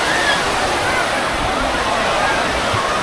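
Continuous loud rush of water running at Sampoorna Water Park in Pondicherry, a dense steady splashing wash close to the microphone.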